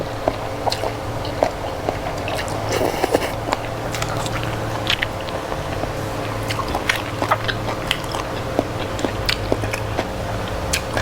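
Someone eating a spicy Thai glass noodle salad (yum woon sen), with soft, steady chewing and small crackly bites going on throughout, close to the mic and without talk.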